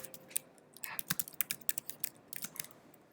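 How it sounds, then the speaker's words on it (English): Quiet, fast typing on a computer keyboard, a rapid irregular patter of light key clicks close by during a class lesson, with no talk. "I will be slower with my typing as we get into this"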